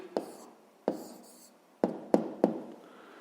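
A pen or pencil writes down the answer to a math exercise on paper: a handful of sharp taps and short scratchy strokes, close and quiet, separated by brief pauses.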